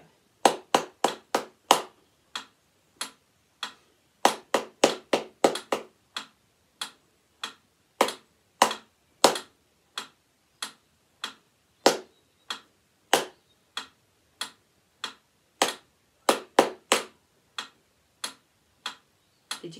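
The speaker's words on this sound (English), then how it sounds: "I'm going to clap your rhythm and I'd like you to clap it back to me." Sharp hand claps tap out a rhythmic pattern, short bursts and pauses alternating, crisp and close with no voices.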